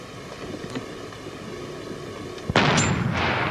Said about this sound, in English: that's the sound of that gun would make, right? Like a cannon.